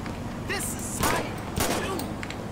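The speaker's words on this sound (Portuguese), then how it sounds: "Vou tentar atingir o pneu dele." Gunfire aimed at a car's tyre in the video game GTA V, a few sharp shots spaced about half a second apart over steady game noise, with a voice briefly audible.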